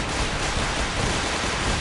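Dense gunfire crackles without pause during a settlement battle in Fallout 4, a loud continuous wash of shots and explosions with no voices over it.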